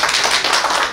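An audience clapping for an author at a literary event, a short, dense patter of many hands at moderate loudness.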